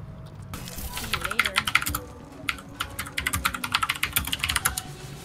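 Loud, rapid typing on a computer keyboard close by, with bursts of sharp clattering keystrokes in uneven runs and brief pauses, a voice faintly in the background.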